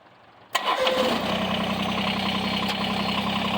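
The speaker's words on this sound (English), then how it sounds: "I'm sitting in the tractor. Let's crank this thing up." A Kubota BX23S compact tractor engine cranks briefly and catches, then settles into a steady, close, moderately loud idle that holds to the end with no talking.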